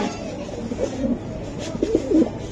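Racing pigeons coo in soft, repeated low calls, close by and clear over a faint background murmur, with no talking.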